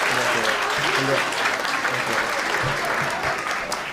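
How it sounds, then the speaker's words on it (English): An audience at an eighth-grade graduation claps for the graduates, a dense, steady wave of applause with voices mixed in beneath it. "Let's give them a round of applause again."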